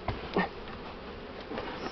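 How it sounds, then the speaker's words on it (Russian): Buzzing from a large swarm of Buckfast honey bees drifts up close and fairly faint, a brief continuous hum broken by a few louder passes from individual bees. "Конкретный рой."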